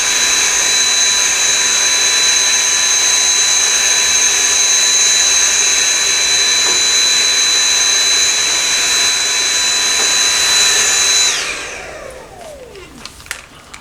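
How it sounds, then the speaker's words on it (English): A vacuum cleaner runs steadily and loudly for about eleven seconds while cleaning out a computer case, its whine holding constant before the motor cuts off and spins down with a falling pitch, leaving a few small knocks. "Most people don't like using a vacuum because of static"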